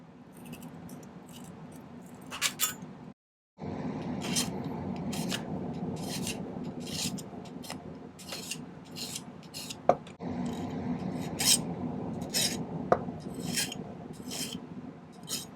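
Excess silver is trimmed from a pendant bezel with a small hand tool, close up: a run of scraping, rasping metal strokes with sharp ticks and clinks and a brief pause early on.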